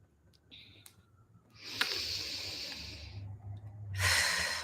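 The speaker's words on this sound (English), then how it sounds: "That was a really nice yawn." A person yawns during a quiet evening meditation: a few small breathy sounds, then a long airy yawn, and finally a louder, forceful exhale. The room is hushed, and nobody speaks.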